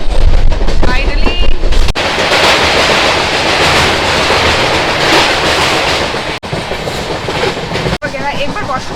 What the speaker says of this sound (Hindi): ट्रेन भी यहाँ से निकल चुकी है